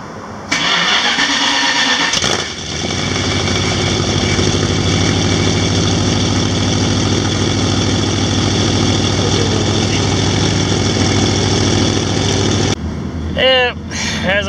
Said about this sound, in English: I'm going to fire her up, because I love the sound of a Mopar V8.